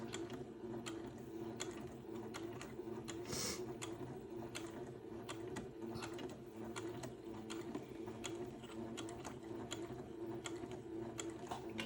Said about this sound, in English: I'm going to go back and forth just a couple of stitches.